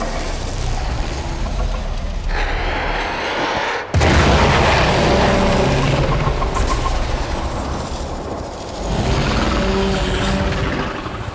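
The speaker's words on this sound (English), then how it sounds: "There should be useful detritus falling from the explosion." A Warframe in-game explosion erupts with a heavy low boom about four seconds in, followed by sustained rumbling and debris noise, loud and close, after an earlier steady low drone.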